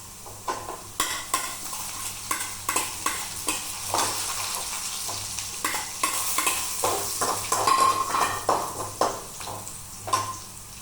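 Chillies frying in hot oil in a pan, with a steady close sizzle broken by repeated scraping and clinking strokes as they are stirred throughout, no talking.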